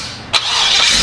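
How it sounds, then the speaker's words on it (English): A 1955 Chevy pickup engine catching on start, a sharp crank burst that settles into a loud, steady idle close by. "As you can hear the motor, nice and quiet."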